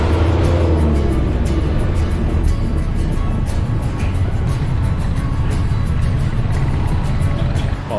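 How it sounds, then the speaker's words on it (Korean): A bus rolling through Colombia, with a loud, steady engine drone and road rumble that continue throughout, close and unbroken. "버스를 타고 가야겠습니다"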